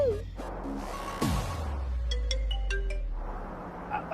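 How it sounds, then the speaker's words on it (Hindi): A phone ringtone plays alone, a steady electronic tone with a few brief melodic chimes over a low hum. "मैं आयुष को फोन लगाती हूँ।"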